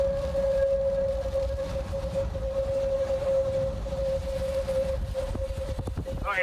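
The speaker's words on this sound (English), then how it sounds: "Sirens are sounding, hear them?" A steady, sustained tornado warning siren wail holds one pitch throughout, far off under rumbling wind and background noise during a hail and tornado storm in Kirkwood, Missouri, with a few clicks near the end.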